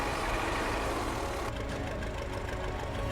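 A classic tractor engine runs steadily in a forest, a loud, continuous low rumble with no pauses.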